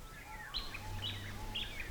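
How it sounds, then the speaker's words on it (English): Spring birdsong on an Australian homestead: several clear, bright chirps and short whistled phrases repeat at close range over a soft low background hum. "The birds are returning."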